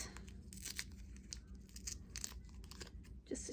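Foil wrapper peeled and crinkled off a Lukas watercolour half pan, close and quiet, with a series of short crackling tears and rustles.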